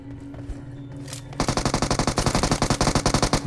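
Automatic gunfire in a PUBG Mobile fight: after a quieter moment, a rapid, loud burst of evenly spaced shots rattles on steadily to the end.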